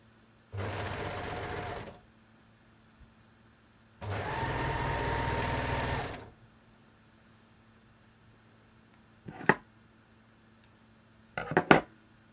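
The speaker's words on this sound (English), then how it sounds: "Okay, so stitch my shoulder seam." A sewing machine stitching the shoulder seam of a wrap dress, with two steady whirring runs close by, the second longer, followed by a few sharp clicks and fabric-handling clatters.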